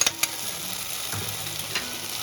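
Chopped green chillies hit a pan of cooked-down onion, tomato, ginger and garlic masala for egg tadka, giving a steady close sizzle with a few sharp stirring scrapes and clicks.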